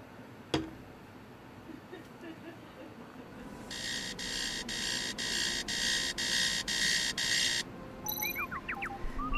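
A robot's electronic alarm in the video game Tales of the Neon Sea, heard as a sustained series of loud, evenly pulsed beeps lasting several seconds, followed by a few short chirping tones, over a low murmuring background.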